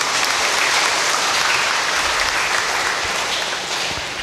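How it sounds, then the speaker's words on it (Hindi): A church congregation at Sunday Mass claps loudly in a dense, sustained burst that tapers off slightly toward the end. "इसके लिए हम ज़ोरदार तालियां मारेंगे"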